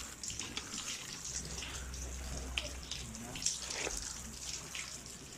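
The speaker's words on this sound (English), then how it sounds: "Have a shower and then get in." Water runs steadily from a shower before a steam bath at a jungle retreat, a close, even hiss with small splashes and no clear talk over it.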